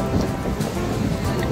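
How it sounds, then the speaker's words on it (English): Rain beats steadily on a car during a drive along the Causeway Coastal Route in Northern Ireland, a dense, even patter with no pauses. "Ah, it is raining."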